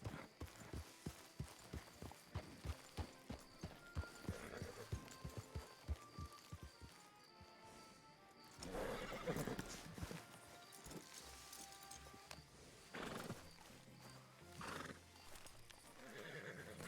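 Horses in the WildRP video game, with repeated hoof clip-clops at a steady trotting rhythm, followed by a couple of neighs and whinnies over a faint rain-like background.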